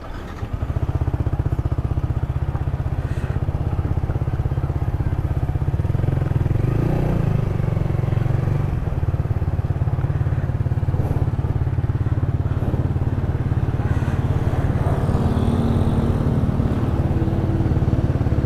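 A Yamaha R15 V3 motorcycle being ridden, its engine droning loud and steady from close range with wind rush, a continuous ride with no speech.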